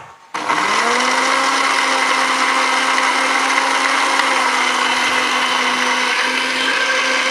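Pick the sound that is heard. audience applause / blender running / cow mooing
blender running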